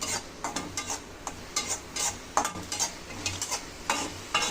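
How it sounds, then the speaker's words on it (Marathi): Garlic and ginger fry with salt in a pan for vada pav, a steady sizzle broken by repeated stirring scrapes and clinks of a spoon against the pan, close and fairly loud, with no talk. "लसूण, अद्रक हे आपलं चांगलं फ्राय झालं पाहिजे"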